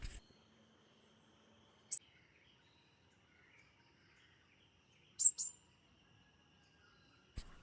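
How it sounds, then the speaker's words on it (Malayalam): A bird calling in the morning near a home in Tirur: two short, faint chirps about three seconds apart over an otherwise quiet backdrop with a thin steady insect hum. "ആ കിളീനെ ഒന്ന് വീഡിയോയിൽ പിടിക്കാമെന്ന് വെച്ചപ്പോൾ ശബ്ദം മാത്രമേ കിട്ടിയുള്ളൂ"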